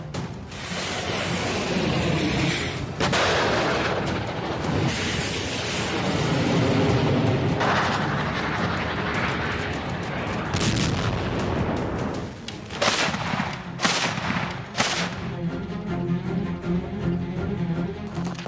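Heavy Russian artillery booms roll out continuously in winter fighting, with several sharper, louder blasts cutting through near the end; loud and rumbling, no talk.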